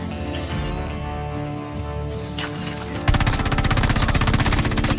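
Rapid, sustained BP50 automatic gunfire in a fast-paced video game, a dense steady burst that erupts loudly after a quieter stretch of game sounds and continues to the end.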